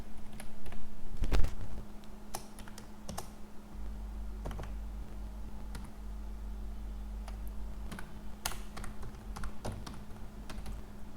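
Typing on a computer keyboard while writing HTML code, a steady run of close, crisp key clicks with irregular pauses over a low constant hum, no voices.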